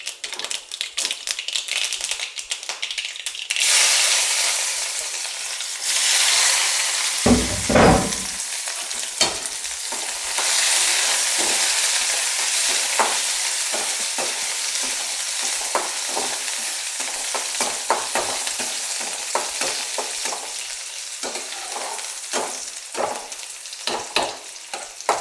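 Onions sautéing in a pan for a Kerala drumstick leaf curry, a loud steady sizzle broken by quick rattling spatula strokes and scrapes, close up and without talk.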